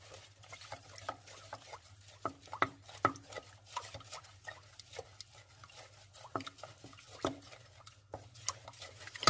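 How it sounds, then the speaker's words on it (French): Agar-agar mixture for a raspberry bavarois is stirred steadily in a pan, with soft, irregular scraping and light clinks of the utensil against the pot, fairly quiet and close. "Et continuez à mélanger constamment."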